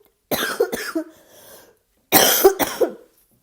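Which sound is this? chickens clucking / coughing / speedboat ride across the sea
coughing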